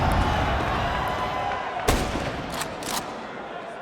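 Grenades going off in a Counter-Strike match on Dust2 at the IEM Dallas 2025 semifinal between Vitality and Falcons, several sharp bangs over a steady wash of arena crowd noise and game sound, the loudest burst near the middle.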